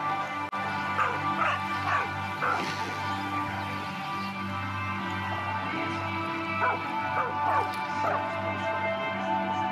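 A dog in the video game Far Cry 5 gives repeated short yips and barks over a steady game background hum, with voices talking throughout.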